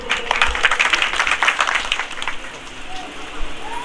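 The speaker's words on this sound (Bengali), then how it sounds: "আমরা পালক বাবুর জন্য জোরে একটু হাততালি দেই।" Congregation at a church service in Dhaka applauds the pastor, a dense burst of clapping crowding the first two seconds and then thinning into scattered claps with murmuring voices.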